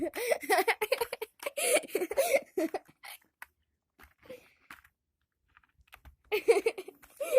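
Keys on a computer keyboard clack in quick bursts of typing, sharp and close, with people talking and laughing before and after.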